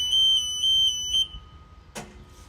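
Niftylift HR28 lift controller powering on with a series of high-pitched electronic beeps in a pulsing pattern, then a short click and a brief burst of noise, close and clear.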